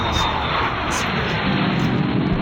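A steady, loud airplane engine roar fills the space continuously while passengers board a flight, with no breaks.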